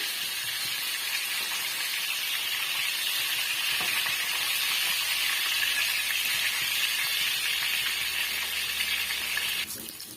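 Tomatoes fry with garlic in a pan for a tomato chutney, giving a steady, loud, close sizzle that holds evenly throughout and dips a little at the very end.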